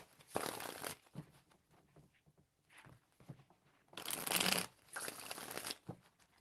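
Tarot cards shuffled in three loud, crisp riffling bursts separated by short quiet gaps, close to the listener with no talking.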